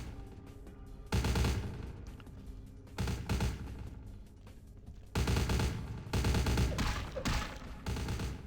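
Repeated bursts of automatic gunfire in Vampire the Masquerade: Bloodlines, several loud sustained volleys separated by brief quieter gaps, close and harsh.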